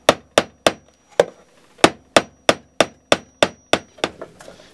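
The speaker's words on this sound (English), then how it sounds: "Now we've got most of the nails in" A hammer drives nails into timber for a wooden bird house, fourteen sharp, evenly spaced strikes, loud and close, with a brief pause after the first few blows.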